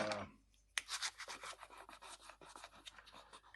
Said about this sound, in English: I'll probably take a little sandpaper on this, being it's holly